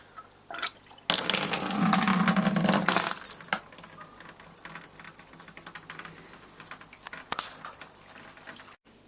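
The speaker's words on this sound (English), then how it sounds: "I'm just going to now put the bitter wort into the primary fermentation bin" Bitter wort pours from a chiller into a primary fermentation bin while brewing a Harvest Pale style real ale: a loud, close rush of liquid for about two seconds, then quieter trickling and light clatter.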